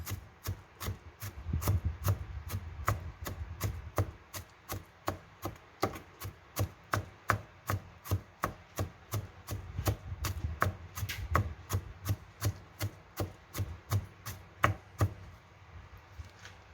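A knife slices carrots and yellow and red bell peppers on a cutting board, steady rhythmic chops repeating for a long stretch, close and crisp with no talking.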